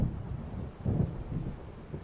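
Approaching storm in the video game Alan Wake, with rough wind and low, rolling thunder swelling and fading in broad waves, moderately loud and with no voices.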